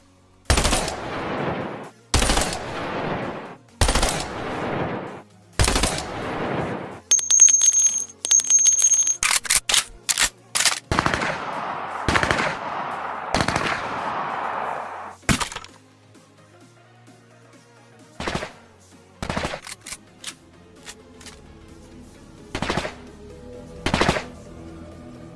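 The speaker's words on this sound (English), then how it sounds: "here is going to be the burst SMG sounds and a little bit of gameplay" Burst-fire SMG shots from a video game ring out as sharp, loud cracks, first in spaced single bursts, then in a dense rapid volley, and finally as scattered shots over quieter game ambience.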